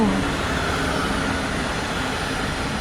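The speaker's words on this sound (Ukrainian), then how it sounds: "Ще один потяг." A train rolls through a railway station on a line toward Antwerp, a loud, steady, broad rumble and roar close by that holds constant across the moment with no speech over it.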